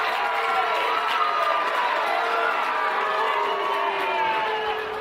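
Fans in the stands at a girls' high school lacrosse game between Payson and Bear River cheer and shout continuously, a dense wash of crowd noise with children's high-pitched yells, heard from a moderate distance without a break.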